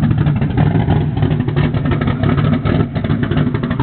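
A 347 stroker V8 car rumbles loud and close through straight pipe exhaust, its deep, throbbing note rising and falling with revs.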